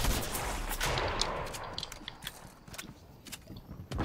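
Gunfire in a Fortnite match comes as scattered sharp cracks and short bursts, moderately distant and faint at first, over a rumbling background that fades midway.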